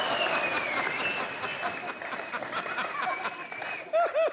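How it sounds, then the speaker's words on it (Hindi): Studio audience on a TV comedy show bursts into loud, sustained applause with cheering, clapping dense and continuous before a few louder claps and whoops at the end. "और हमारे खूबसूरत सोफे के लिए भी जोरदार तालियां"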